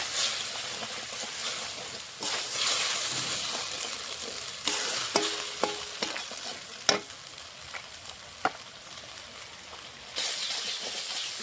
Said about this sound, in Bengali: এখন মশলাটা আমি ভালো করে কষিয়ে নেব।